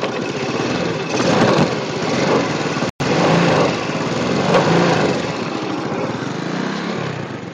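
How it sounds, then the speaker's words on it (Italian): A small motorcycle engine buzzes at a steady, close idle with a high, light tone, broken by one brief dropout. "cerco di far partire la moto"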